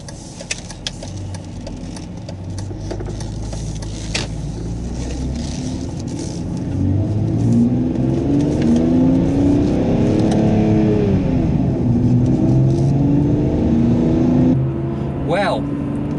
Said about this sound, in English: We're going to turn the ignition key. Oh yes, that does sound